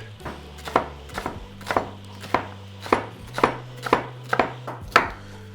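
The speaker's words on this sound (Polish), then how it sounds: "Por najpierw musimy posiekać i wypłukać w wodzie." A knife chops leek steadily on a board, about a dozen even strokes in a regular rhythm over a low hum.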